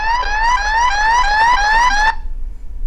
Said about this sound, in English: it will sound an alarm, so you can find the phone